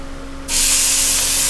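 A sudden loud sizzle erupts and holds steady as an oiled filet mignon steak hits a hot pan, a dense bright hiss, close up.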